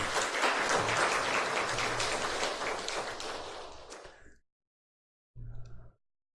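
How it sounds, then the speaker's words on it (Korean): An audience at a Hanyang University chapel service claps in a dense, sustained round of applause that fades out after about four seconds. After a short silence, a brief second burst of clapping follows. "여러분 감사의 박수 하겠습니다"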